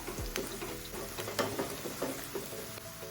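Onion and garlic frying until golden for a methi leaf dish, a soft continuous sizzle with scattered crackles and a few utensil taps, fairly quiet and close, with no voices over it.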